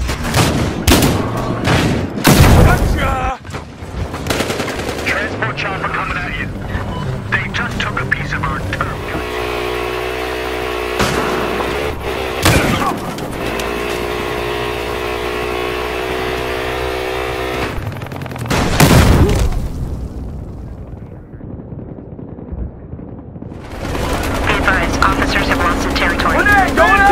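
A helicopter in the Battlefield Hardline video game flies amid a loud firefight, its steady rotor drone mixed with bursts of gunfire, vehicle noise and voices talking.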